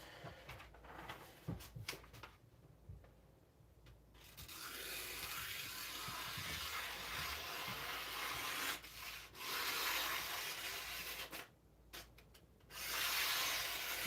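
Very hard 52100 steel blade being ground on a sharpening stone, a steady close scraping rasp of repeated strokes with short breaks and a few knocks early on, no voices.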